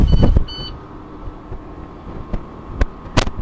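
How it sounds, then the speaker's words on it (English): A school bus engine being started, with a pair of short beeps before a low, steady rumble settles in, broken by a few sharp clicks and thumps nearby. "I will apply my foot. Start the vehicle."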